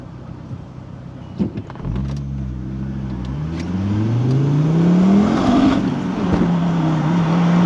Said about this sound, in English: Wheel spin! Straight up to the speed limit.